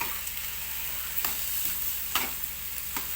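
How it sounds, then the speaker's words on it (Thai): Bamboo shoots stir-fried with pork belly and red curry paste, a constant close sizzle punctuated by several distinct spatula scrapes against the wok, no one speaking. "หน่อไม้ผัดพริกแกงนะคะ"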